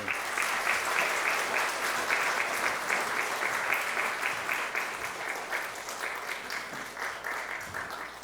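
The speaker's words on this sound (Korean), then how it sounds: "목사님 오실 때 우리 환영의 박수 하겠습니다" A congregation at a Sunday university church service giving steady, sustained applause to welcome the pastor, even and full throughout with no voices over it.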